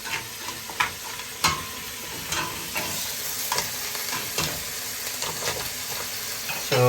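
Mud crab and vegetables sautéing in a pan, a steady close sizzle broken by repeated scraping strokes of a stirring utensil, with no talk.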